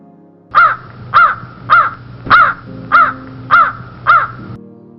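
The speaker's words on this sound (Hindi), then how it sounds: "जब वो गाना गाने लगा तो इसके मुंह से कौवे की आवाज निकली।" A cartoon crow caws seven times in a steady rhythm, each call loud, harsh and close, over a faint musical background.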